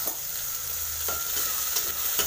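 Chopped tomatoes and turmeric are stirred in a hot frying pan, giving a continuous near sizzle with a few sharp scrapes of the spoon and no speech.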